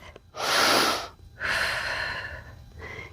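Heavy breathing while a side plank is held during a home workout: two long, loud exhales in close succession, then a shorter third breath, close to the mic with no talking.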